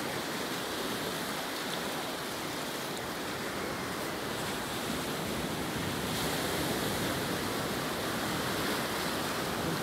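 Ocean waves roar steadily in a continuous broad wash, surf rising and falling slightly with no voices present.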